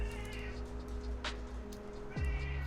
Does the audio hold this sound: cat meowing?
yes